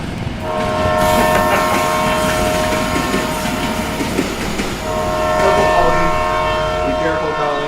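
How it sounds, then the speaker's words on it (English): A train passing loudly on a nearby track, with a steady roaring rumble, sustained horn tones and rhythmic wheel clatter across the whole stretch, close and dominant. "Hold for train."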